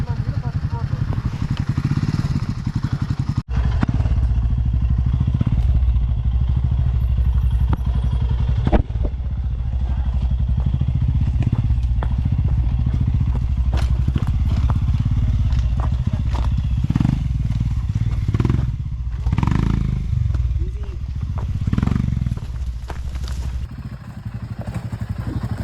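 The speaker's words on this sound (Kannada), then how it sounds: "ಬೈಕ್ ಎಲ್ಲ ಕೆಳಗಿಳ ಸರಿಯಿಂದ ಆಫ್ ರೋಡಿಂಗ್ ತೋರಿಸೋಣ ಎಲ್ಲರಿಗೂ." A Royal Enfield Himalayan 450 motorcycle off-roading on an early-morning forest trail, its engine rumbling loud and close throughout, with clattering and thuds over rough ground and people talking over it.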